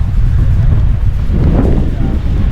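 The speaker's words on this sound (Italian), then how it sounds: "magari si sente, c'è un po' di vento" Strong wind blows outdoors at the start of a snowshoe hike on a mountain trail in Val Formazza, buffeting the microphone with a loud, continuous low roar and no clear voices.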